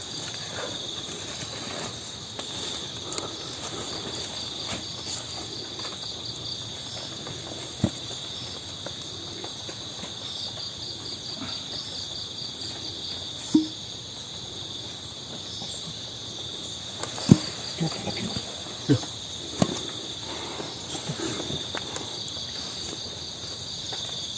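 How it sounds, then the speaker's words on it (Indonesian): Crickets trill steadily in a high, continuous shrill chorus that holds throughout, with a few faint knocks and rustles scattered beneath. "Jangkrik Mas, jangkrik Mas."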